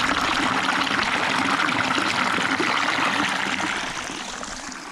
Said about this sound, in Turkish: Ve şırıl şırıl akan güzel bir suyumuz var.